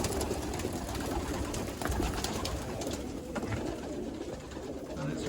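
Young racing pigeons coo continuously inside a loft, a dense, overlapping murmur of many birds with steady rustling and no voices.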